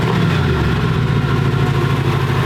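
A steady engine idles with a low, continuous rumble, loud and close, with no distinct start or revving.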